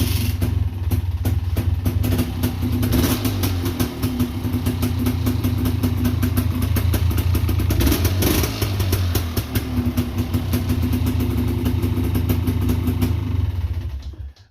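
A Honda TRX450er ATV with an FMF exhaust idles close up, giving a steady, loud, throbbing engine rumble that runs unbroken for the whole stretch, with no talk, before it cuts off at the end.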